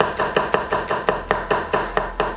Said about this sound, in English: So bulb of garlic, and we're just gonna cut that down nice and fine.